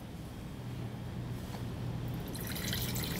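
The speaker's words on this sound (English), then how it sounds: "let us pour our wine." Wine pouring from a bottle into a glass, a steady broadband liquid rush that fills the whole short span and brightens slightly toward the end, with no talk over it.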